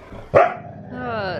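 Husky puppy playing gives one sharp, loud bark, followed by a whiny, yodel-like vocal that rises and wavers, close by and clear.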